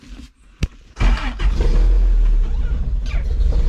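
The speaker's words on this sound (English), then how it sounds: "I'm going to data log the cold start" A street-tuned off-road vehicle engine is cold-started: a brief click is followed by the engine catching and settling into a loud, steady, close idle.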